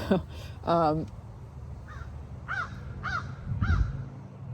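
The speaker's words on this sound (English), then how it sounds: "Okay, so we just had a crow 3 times." A crow caws several times in separate, arching calls spread across a few seconds, heard at moderate distance over a low background hum, with a brief voice-like sound near the start.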